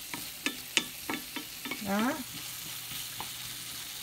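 Ingredients for a vegetarian rice porridge stir-fried in a pan, giving a few sharp stirring clacks and a brief sizzle, moderately close and fairly quiet with one short spoken word.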